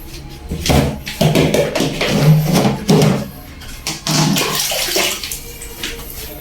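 Water runs from a tap during toilet cleaning, a splashing, uneven gush in bursts that swells and fades, close and fairly loud.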